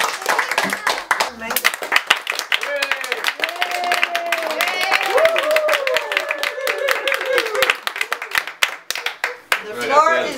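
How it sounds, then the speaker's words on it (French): Audience applause at a theatre school, with sharp, scattered hand claps running throughout under voices that call out and whoop. "Hey, on donne une bonne main d'applaudissements."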